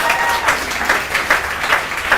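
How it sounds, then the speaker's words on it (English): A live audience claps warmly at a TEDx talk event at Yeshiva University, a dense, steady wash of hands with a slightly pulsing rhythm that carries through the whole stretch. "A round of applause for the 5 Torah"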